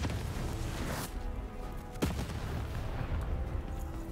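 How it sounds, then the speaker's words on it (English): Mines detonating in the video game Lost in Random, two sharp explosive bursts about a second apart over a low rumbling game backdrop, fairly quiet overall. "Time to explode!"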